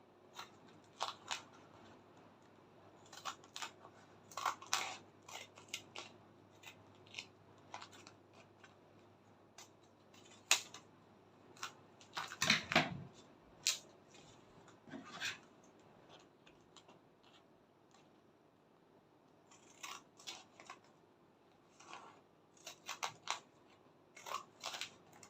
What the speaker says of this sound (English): I'll just go ahead and put the sides, and then I'll begin to cut.